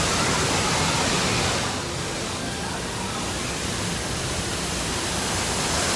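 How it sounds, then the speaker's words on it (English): Small waterfall at Knott's Berry Farm amusement park, a steady close broadband rush of falling water that dips slightly in level midway, with no talk over it. "I love to enjoy these small sections of waterfalls here at Knott's Farm."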